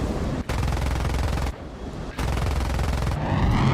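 The JA37 aircraft cannon in War Thunder fires in two long, roaring bursts with a short gap between them, loud and dense, over a wind-like rush of background noise.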